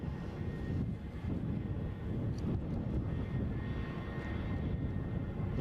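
A British Airways airliner roars steadily down the runway at Edinburgh airport on its takeoff roll, a broad, sustained engine rumble that stays loud and constant throughout.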